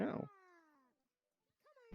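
A human voice imitates a drawn-out cat meow with a falling pitch, followed by a short second meow-like sound and a burst of noise at the end.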